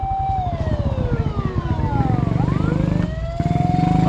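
A fire truck siren wails loudly and close by at a fire scene, sweeping down and back up in pitch over a rumbling engine, with no voices.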